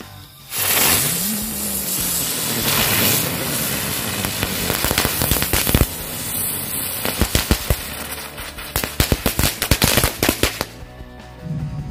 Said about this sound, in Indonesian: yang selanjutnya kita nyalakan mercon bunga teratai